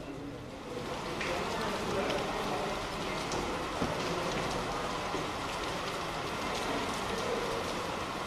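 Heavy monsoon rain falls steadily over Kota, a continuous broadband wash of downpour that holds at a constant level throughout, with faint indistinct voices in the background.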